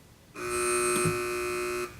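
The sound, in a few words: quiz buzzer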